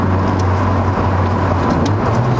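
A 2018 Honda Civic Type R's turbocharged engine pulls steadily under partial throttle, a continuous close-up cabin drone with a smooth low hum and even road noise.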